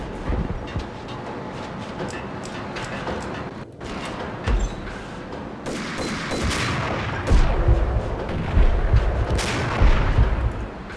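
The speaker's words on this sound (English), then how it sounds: "these motherfuckers throwing grenades like crazy" Heavy gunfire and grenade blasts in the shooter video game Max Payne (2001), dense bursts of shots and booming explosions building louder toward the end, with no voices.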